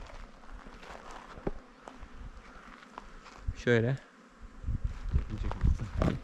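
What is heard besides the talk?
honeybees buzzing around hive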